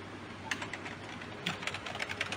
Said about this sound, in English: the keyboard is now fully working